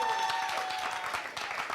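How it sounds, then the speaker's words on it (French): A crowd at a Burkina Faso television show applauds the fan club president, a brief burst of dense clapping at close range that stays strong throughout. "Applaudissements pour le président."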